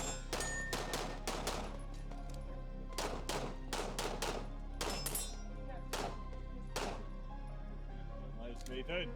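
Pistol gunshots on a USPSA competition stage at an Area 1 championship: bursts of sharp, loud shots in quick strings with short pauses between, over a steady background hum and some talk.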